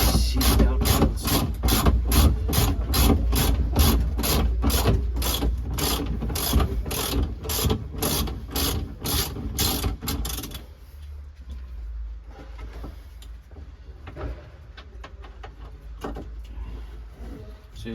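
A ratchet clicks in a fast, even series of loud strokes while backing out the last seat belt bolt in a BMW E30 325i shadowline. After about ten seconds it goes quiet, leaving faint handling noises.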